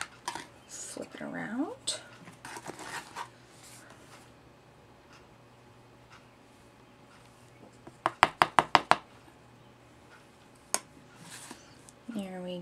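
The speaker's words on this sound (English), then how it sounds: "Give it a little tap there to get the extra off." Series of about five sharp, fast knocks as a piece is tapped to shake off loose embossing powder during a Joseph's Coat stamping technique, with a brief talking voice around them.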